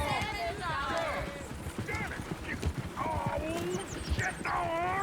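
Several horses clop and whinny in an outdoor scene of Red Dead Redemption 2, with hooves beating irregularly among neighs and voices shouting nearby.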